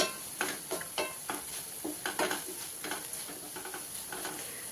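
Ridge gourd frying in a pan for chutney, a soft sizzle broken by regular scraping strokes of a spatula stirring the pieces, close and fairly quiet.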